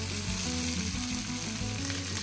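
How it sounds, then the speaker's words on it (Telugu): Brinjal cooks in hot oil for a dry prawn curry with a dense, continuous frying sizzle, close and even throughout, over a faint tonal hum. "ఒక 5 నిమిషాల దాకా ఇట్లా ఉడికిద్దాము."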